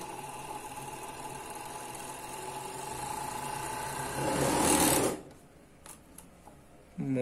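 Overlock sewing machine stitching a piece of fabric, a steady fast mechanical whir that swells louder near the end before stopping abruptly, followed by faint clicks and handling.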